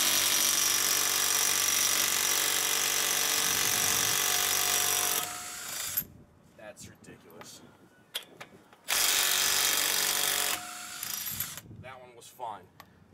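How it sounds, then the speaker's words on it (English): A 161 ft-lb impact wrench struggles against overtightened lug nuts on a 2001-2007 Toyota Highlander, two long, loud, sustained bursts of rattling hammering, separated by quieter stretches of clanks and handling noises. "I have 161 foot-pound torque impact wrench, and it's having a hard time removing these."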